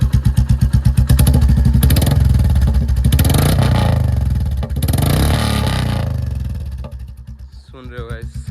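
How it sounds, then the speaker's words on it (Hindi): A Royal Enfield Classic 350 (2024) motorcycle starts in neutral and idles with a loud, pulsing thump from the exhaust, the rhythmic beat rising and dipping before a short quieter stretch. "एक बार आपको एग्जॉस्ट चेक कराते हैं, आवाज़ सुनाते हैं"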